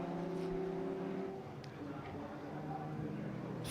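Caterham race cars circling Silverstone, a blurred engine drone passing at a distance under a commentator's voice.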